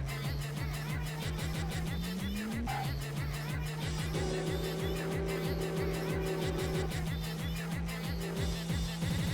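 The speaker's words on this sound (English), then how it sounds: "the stereo sound of cars being in the left or right, ah, quite good" Several engines buzz and whine continuously with rapid pulsing, shifting pitch as racing cars in the arcade game Ridge Racer roar past one another, with occasional tire squeal.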